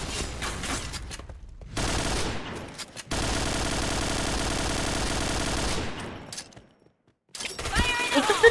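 Automatic gunfire in a first-person shooter game, fired in long sustained bursts with short pauses and a silent gap, loud and close, with a voice speaking faintly at times.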